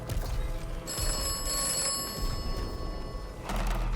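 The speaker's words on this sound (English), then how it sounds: "Run over here because his phone's gonna go off in a minute." An old-style telephone bell rings out in the video game Atomfall, a steady metallic trill running for a few seconds over a dense low ambient rumble of the game world, with no speech.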